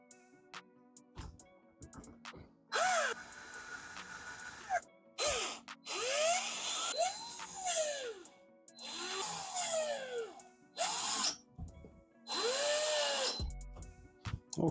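A cordless drill drives screws while a fingerprint smart lock is installed, several whirring bursts that rise and fall in pitch as each screw seats, separated by short pauses, close and fairly loud.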